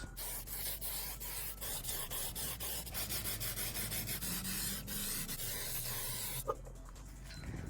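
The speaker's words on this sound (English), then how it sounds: "the next step, this is just a spray adhesive." Bursts of hissing spray from an aerosol can of spray adhesive onto a mold, pulsing in repeated short sprays before stopping, close by with no talking.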